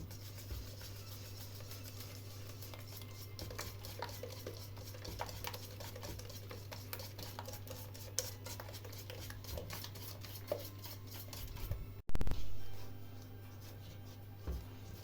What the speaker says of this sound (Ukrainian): Додаємо муку невеликими порціями і перемішуємо треба вимішувати, щоб у нас не було комочків.